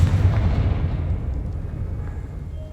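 A Confringo blast spell from the video game Hogwarts Legacy goes off as a loud, deep explosion that rumbles and slowly fades.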